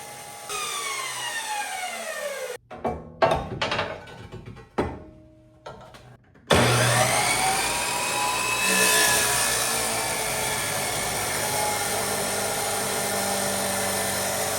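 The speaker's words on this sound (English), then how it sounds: "This saw throws a lot of sparks." A power saw cuts through a metal tube, throwing sparks, with a loud sustained grinding whine after a stretch of intermittent short bursts of cutting, then a steady harsh roar that continues to the end.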